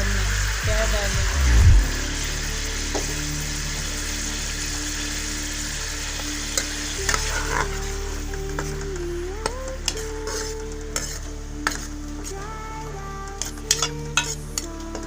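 Garlic-ginger paste sizzles in hot oil for kaleji palak, a steady frying hiss running throughout with occasional clinks and scrapes of stirring against the pan, and a low background hum and faint voices nearby.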